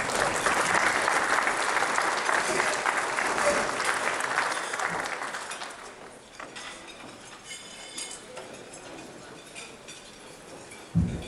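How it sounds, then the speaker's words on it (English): Applause from a banquet audience at a community dinner, loud and sustained for about six seconds, then fading into murmuring crowd noise with scattered clinks of cutlery and dishes. "another huge round of applause"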